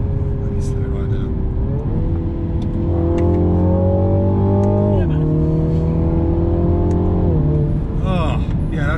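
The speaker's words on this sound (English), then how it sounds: "It's quick, isn't it? It sounds good." A 2020 Mini Clubman JCW engine pulls through the gears while driving, its tone climbing steadily then dropping at each shift, loud and close, with people talking over it.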